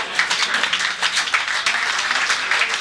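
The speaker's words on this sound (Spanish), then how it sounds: "Y seguimos con el aplauso" A hall audience claps steadily and densely throughout at a community gathering, a continuous wash of applause close and fairly loud.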